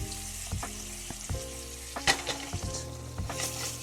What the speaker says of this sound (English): A little bit of extra butter for the fish.